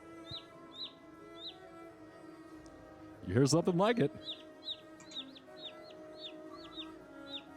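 Baby birds chirping as a sound effect: short, high tweets repeat steadily throughout, while a person speaks briefly in the middle.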